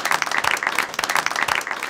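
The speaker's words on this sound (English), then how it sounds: "if we could just give them a round of applause," A live audience bursts into a round of applause at a parenting-in-recovery training workshop, dense overlapping clapping sustained and fairly loud throughout the short moment, with no voices rising above it.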